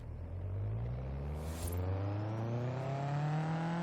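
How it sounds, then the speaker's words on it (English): An Acura RSX engine in Forza Horizon 3 revs up steadily through a gear, with VTEC and turbo, a rising droning whine climbing in pitch over a few seconds, heard close and alone. "There's VTEC and the turbo."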